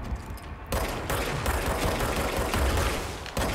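Sustained automatic gunfire in the action video game Control, loud and dense, running as a near-continuous rattle of rapid shots with a brief lull near the start and another near the end, no talking.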